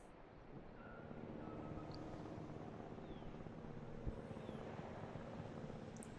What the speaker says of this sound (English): Okay, I can hear the helicopter returning.